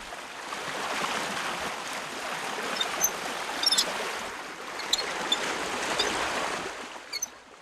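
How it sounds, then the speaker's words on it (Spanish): Water rushes through an opened sluice gate from the main basin into salt pans, a steady broadband gushing with small splashes and clicks near the end, no talking. "Felisberto Forte abre la compuerta del agua de la cuenca principal que alimenta a toda la salina"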